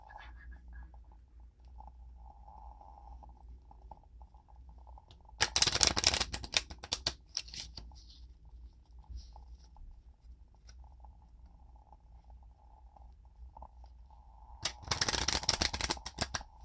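Small, stiff tarot cards are shuffled in two loud riffling bursts, close and crisp, separated by quieter handling and faint tapping.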